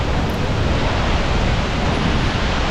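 A waterfall pours down fast, a loud, steady broadband rush of falling water heard close by without breaks or voices.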